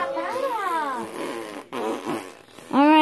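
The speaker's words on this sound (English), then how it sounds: "I'm going to fart." A small child lets out a few drawn-out, squeaky fart noises in quick succession, close and fairly loud, with a brief quiet gap before a louder final burst.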